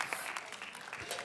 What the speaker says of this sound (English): Everyone, give Jay a round of applause